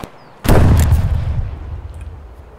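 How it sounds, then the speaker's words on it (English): A single loud, close gunshot goes off in Escape from Tarkov, a sharp crack followed by a booming echo that fades over about two seconds. "Who just shot that?"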